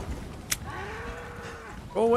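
A cow in the video game Resident Evil 4 gives a single drawn-out, wavering moo lasting about a second, fairly close and clear, with a short click before it and a voice starting at the end.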